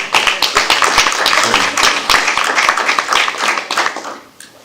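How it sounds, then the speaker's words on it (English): A small crowd at a school district board meeting claps in a round of applause, scattered distinct hand claps that stay lively for several seconds before thinning out, with some speech mixed in. "Round of applause."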